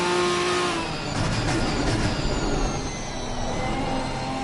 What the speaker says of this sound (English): You can hear the car chopping out there.